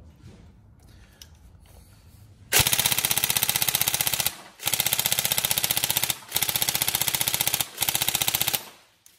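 An upgraded Tokyo Marui MK18 next-gen recoil shock airsoft rifle fires rapid full-auto bursts: a loud, close mechanical rattle that runs for about two seconds, then in several more strings separated by brief pauses.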